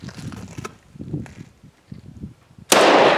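A single loud, sharp report from a Norinco T97 Gen III rifle cracks out near the end, after a stretch of low handling noise.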